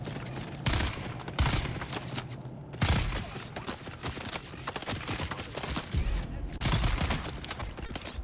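Gunfire in the video game Dune: Awakening: several sharp shots and short bursts come in irregular clusters over a steady bed of game noise, loud and close.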